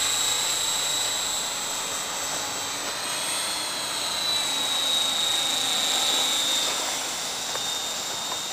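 A dynamic stabilizer aircraft with rotating fins that tilt to give lift flies overhead, producing a steady, fairly soft whirring hum with a high whine that swells and fades slightly, with no voices.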